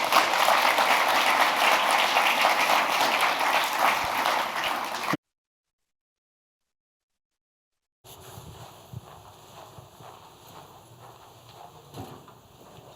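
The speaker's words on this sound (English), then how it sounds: "Let's give another round of applause to everyone that's been up on stage tonight." A burst of dense applause from an audience at a university entrepreneurship showcase fills the first few seconds, then cuts to silence before faint, scattered room noise resumes.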